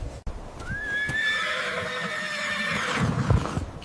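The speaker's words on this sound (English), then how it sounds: "Giant red Savannah wild horse." A giant red Savannah wild horse gives a single long, loud, close neigh that rises into a shrill whinny and then trails off, with a brief soft thump near the end.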